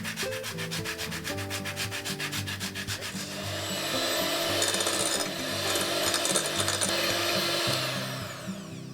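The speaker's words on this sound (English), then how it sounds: "So I'm gonna add some orange zest." Orange zest being grated for coconut macaroons, a close rhythmic rasping and scraping that repeats steadily, with no talk.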